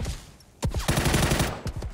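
Rapid automatic gunfire in PUBG, a fast close burst of shots after a short pause, then a few more quick rounds.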